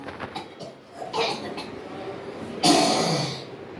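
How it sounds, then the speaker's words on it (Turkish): A single loud, breathy cough bursts out near the end, following muffled talking and rustling in a room. "Öksür."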